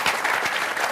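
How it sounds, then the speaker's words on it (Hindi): A crowd at a Hindi poetry recital applauds, a steady wash of clapping with no voices over it. "आप सबको ताली बजाकर एक बार और उनका स्वागत करना चाहिए"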